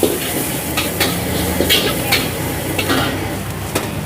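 Pad see ew noodles stir-fried in a wok at a busy Thai street food stall, a steady loud sizzle with repeated metallic scraping and clanking of the spatula.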